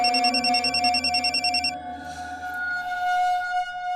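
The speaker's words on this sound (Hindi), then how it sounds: "हम अभी जमुना दास जी को फोन करके बता देते हैं।" An electronic telephone ring warbles rapidly for about two seconds, then gives way to a steady, sustained tone.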